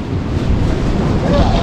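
Strong gusting wind roaring across the microphone during a motorcycle ride along the Batangas coast in stormy weather, steady and loud with a low rumble throughout.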